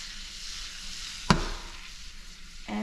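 Minced garlic frying in butter in a pan, a steady close hiss of sizzling with one sharp clack of a utensil partway through and a tonal ring near the end.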